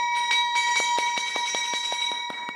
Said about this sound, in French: Cette cloche qui sonne retentit ici dans cette salle